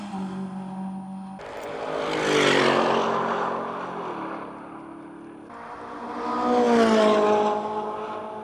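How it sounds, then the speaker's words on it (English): An airplane comes in to land, its engine drone swelling loudly overhead, fading, then rising again in a second strong pass, with no speech over it. "there's a plane coming into land as we speak"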